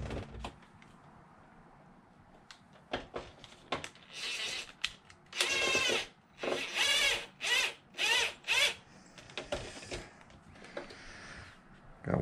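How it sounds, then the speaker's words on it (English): Bolts are driven in with a small power tool while an Arrma Mojave RC car windshield is fitted, giving several short whirring bursts between quieter clicks and handling noise, up close. "we're going to go ahead and get this thing bolted in."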